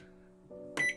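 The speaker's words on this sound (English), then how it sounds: "So I'll melt the butter in the microwave." A microwave oven melting butter hums softly, its tone shifting partway through, then a short, bright beep sounds near the end.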